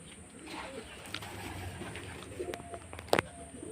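Soft pigeon cooing murmurs quietly in the background, joined near the end by a brief sharp chirp.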